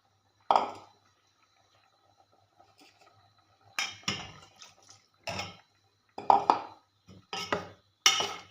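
A spoon or ladle clinks against a metal curry pot as ground coconut and cashew paste is scraped in, with about six sharp, separate knocks and scrapes spaced over several seconds and quiet pauses between them.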